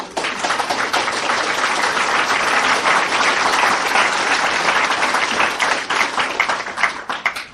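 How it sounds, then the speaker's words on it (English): Loud, sustained applause from a large audience, dense steady clapping filling the whole stretch without letting up. "And you applaud, and so you should"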